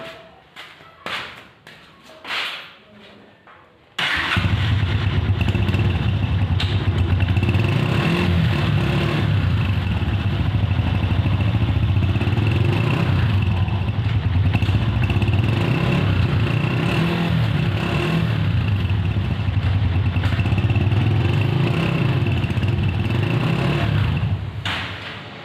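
A Honda TMX 125 Alpha motorcycle engine starts after a few loose knocks and clatters, then runs for about twenty seconds with a steady close-up idle, its pitch rising and falling slightly as it is revved, before stopping.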